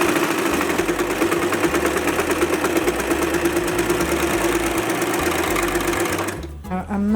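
Serger sewing machine stitching swimwear fabric, running fast with a loud, steady mechanical whir and rhythmic clatter close up, then stopping abruptly near the end as a voice speaks over it.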